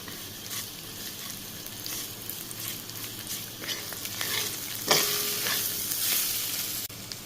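Green banana peels fry with cumin and black cumin in hot oil, a steady close sizzle broken by scraping stirs and a few sharper clinks, with no talking.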